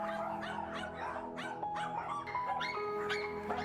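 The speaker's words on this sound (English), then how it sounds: "This is the life of a puppy mill dog." Several confined puppy mill dogs bark, yip and whimper continuously, overlapping one another at close range with no talk.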